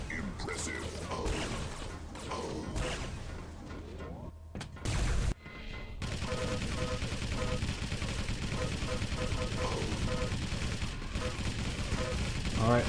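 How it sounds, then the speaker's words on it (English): During a Quake team deathmatch, a rocket barrage unleashes rapid, dense bursts of explosions and weapon fire. A brief gap interrupts the steady, loud barrage of mechanical impacts midway, with a voice talking underneath. "Figa's trying to defend against Meta's rocket barrage"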